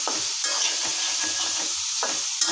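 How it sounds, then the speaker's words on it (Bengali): Shrimp and gourd leaves are stirred in a hot pan, with steady frying sizzle underneath and spoon scrapes landing at irregular intervals, close up and without voices. "আর এখন আমি একটু পর একটু এভাবে নাড়া দিতে হবে"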